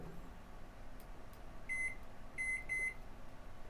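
A Hamilton Beach P70B20AP-G5 microwave oven, repaired after a broken capacitor, hums faintly and steadily, with several short electronic beeps near the end.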